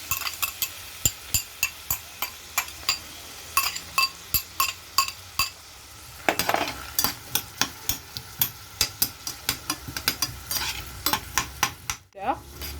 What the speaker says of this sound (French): j'ai chauffé ma casserole avec un peu d'huile sur lesquelles je rajoute 2 oignons